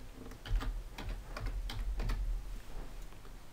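Someone types a short word on a computer keyboard while booking a train ticket online, a quick run of close, crisp key clicks alone in a quiet room.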